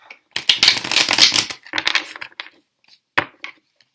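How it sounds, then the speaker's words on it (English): Crisp riffling and slapping of tarot cards, a long dense burst then shorter bursts and a final snap, close and fairly loud with no talking. "So I'm just going to take these cards and we are going to shuffle."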